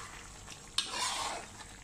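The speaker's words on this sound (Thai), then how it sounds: "เราก็มาคอยผัดๆแบบนี้ให้น้ำแห้งลงกว่านี้หน่อยเดียว" Pork in a thick sauce stir-fried as the liquid reduces, a faint soft bubbling hiss with one quick metallic clink of a spatula against the pan.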